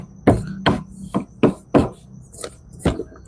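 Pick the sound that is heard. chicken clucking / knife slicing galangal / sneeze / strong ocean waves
knife slicing galangal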